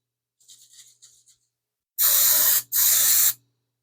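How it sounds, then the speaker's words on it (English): Two loud, close bursts of hissing aerosol spray, back to back, aimed at a Mopar A-body heater box assembly, preceded by some faint scratchy rustling. "Spray this down."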